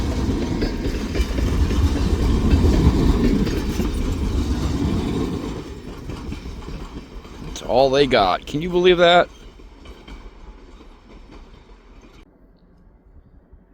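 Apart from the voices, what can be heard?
train passing on rails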